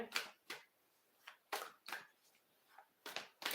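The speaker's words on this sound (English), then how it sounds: "We'll do a quick shuffle." Tarot cards are shuffled by hand at close range in several quick, crisp riffling bursts separated by short pauses, in a quiet room with no talking.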